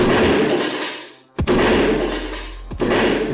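Game gunfire from a House of the Dead 2 remake: sustained loud roaring blasts with two sharp shot transients breaking through, close and dense, with no voices.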